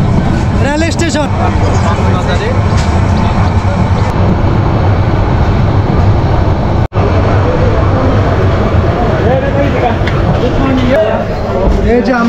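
The new Cox's Bazar Express train rolls into the Cox's Bazar railway station platform with a loud, continuous rumble and rushing noise heard from on board, as voices talk over it.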